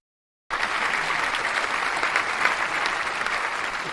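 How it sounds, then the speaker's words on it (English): A lecture audience at an architecture talk breaks into loud, sustained applause that starts abruptly and holds steady with no one speaking. "So let's have a round of applause for everybody."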